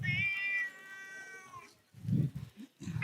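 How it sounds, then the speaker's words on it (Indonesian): A hungry house cat meows insistently, waiting to be fed: one long drawn-out tonal meow followed by several shorter cries, close and fairly loud with no talk over it. "Aku kasih makan kucing dulu. Berisik kalau gak kasih makan."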